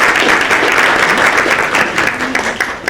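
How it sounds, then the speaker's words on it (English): An audience applauds student theater actors before a school play, dense steady clapping spread across the room and holding loud for the whole stretch before tapering slightly at the end. "I want to give our theater members a round of applause"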